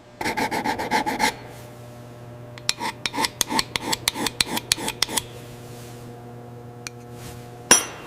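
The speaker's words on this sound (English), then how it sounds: "Using thread chasing tools, he carefully cleans up threads without removing excessive material." Metal threads on an ammunition part being cleaned with a thread chasing tool in a factory: a fast rasping run of strokes, a pause, then a second burst of separate scraping strokes over a steady machine hum, ending in one sharp knock.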